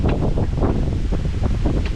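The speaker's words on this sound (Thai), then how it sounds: "ลมแรงมาก" Strong wind blasts across a mountain camp in Chonburi, a loud, continuous roaring rush with gusty surges and buffeting on the microphone, no talk over it.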